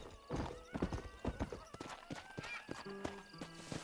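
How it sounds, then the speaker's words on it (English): A horse gallops in the video game Red Dead Redemption, with rapid rhythmic hoofbeats close up and fairly loud, and brief tonal game sounds near the end. "Good horse."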